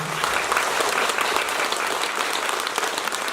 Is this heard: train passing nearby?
no